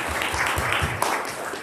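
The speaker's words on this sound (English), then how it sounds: "another round of applause" Applause at a church annual meeting, steady clapping from a gathered congregation that carries through the whole short moment without any talk over it.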